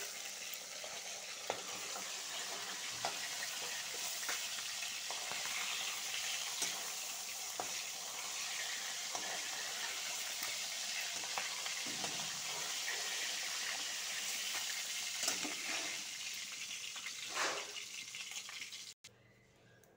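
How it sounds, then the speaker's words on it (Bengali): Lentil dumplings (bori) fry in hot fish oil in a home kitchen, giving a loud continuous sizzle with crackles and occasional stirring scrapes, close and steady with no talk. "মাছের তেলে ডাইলে বড়িটা ভেজে নিব।"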